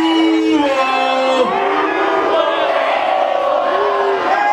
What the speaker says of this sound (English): Let me hear the crowd give me some Duval love.